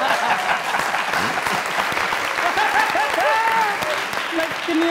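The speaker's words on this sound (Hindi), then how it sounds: "पहली बात तो ये कि मस्ताना साहब के रिएक्शन पे तालियां" A comedy show audience claps loudly and continuously for the full stretch, a dense wash of applause with a voice speaking over it.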